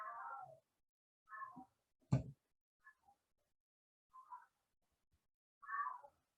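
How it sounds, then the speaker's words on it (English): A cat meows several times outdoors, in short, separate calls with gaps of quiet between them, set against a faint distant background; one sharp, loud knock or bump lands in the middle of the sequence. "I think there's like a cat or something outside."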